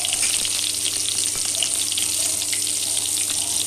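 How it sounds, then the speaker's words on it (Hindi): Green chilies, cumin and other spices frying in hot oil in a kitchen pan, a dense continuous hiss and crackle, close and steady with a low hum beneath. "हरी मिर्ची डाली जा रही हैं अभी"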